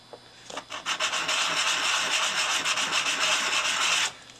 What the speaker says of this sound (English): I'm just going to real quick sand on this a little bit and see if I can get that a little flatter